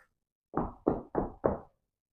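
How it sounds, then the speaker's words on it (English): Four firm knocks on a tree trunk in a steady, evenly spaced rhythm, close and clear, with silence before and after. "they knock on his tree trunk"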